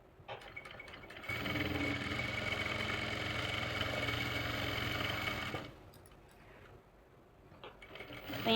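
Sewing machine stitching the crotch seam of a simple salwar, a steady whirring run of about four seconds, then a brief quieter burst before stopping.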